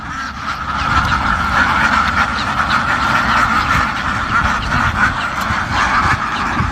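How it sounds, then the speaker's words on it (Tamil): A dense flock of ducks on a duck farm quacking continuously and loudly, a steady clamor of overlapping calls close by. "எல்லாம் வாத்து தலையாக இருக்கா"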